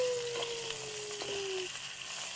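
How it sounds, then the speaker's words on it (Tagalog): Vegetables and tender beef sautéing in a pan give a steady, close hiss of sizzling oil, with a few soft stirring scrapes and a whistle-like tone fading across the sound. "Yan na ano, nagisa na natin ang ating gulay. Isunod na ng ating malambot na beef."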